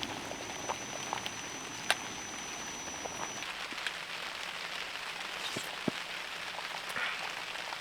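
Rain patters steadily on a camping tent and a tarp stretched over it, a constant close hiss with occasional louder drops striking the fabric and no one speaking.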